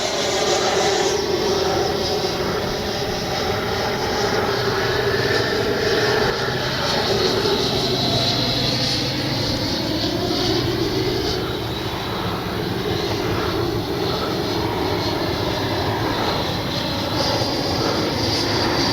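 An FMS Avanti S 90mm electric ducted-fan RC jet flying overhead, a continuous loud whooshing turbine-like roar that swells and fades slightly as it passes, no talk.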